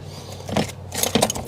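Car keys jangle in two short metallic bursts beside a 2016 Dodge Dart during window tinting work, with a steady low hum underneath.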